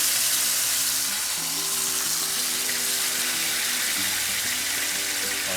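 Vegetables for an eggplant and vegetable ikra dip hitting overly hot olive oil in a pan, giving a loud, continuous sizzling hiss that holds steady throughout, with no talking.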